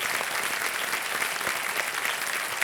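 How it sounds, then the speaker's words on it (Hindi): The studio audience of the quiz show Kaun Banega Crorepati claps loudly and steadily for a contestant. The applause is dense and continuous at an even level from start to finish, with no voice over it. "तालियां बजाएं इनके लिए।"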